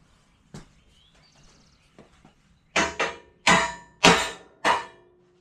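Hammer blows while building a steel welding table: a light tap, a few faint knocks, then five loud, sharp strikes in a steady rhythm, close by with no talking.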